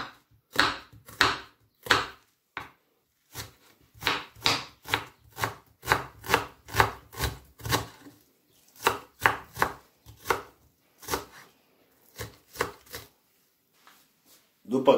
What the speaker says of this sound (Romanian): Tăiem pătrățele.